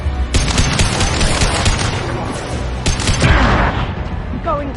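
Sustained rapid gunfire from the Mass Effect 2 video game, dense overlapping bursts and booms filling the clip at a steady loud level, with faint voices mixed in.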